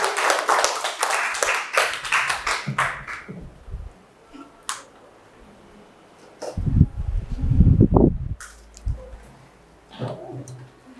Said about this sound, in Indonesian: give applause for kelompok 3